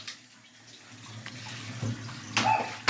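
Water runs with a soft, steady wash as someone does the washing up, building slightly toward the end, with a few clinks and splashes standing out near the close.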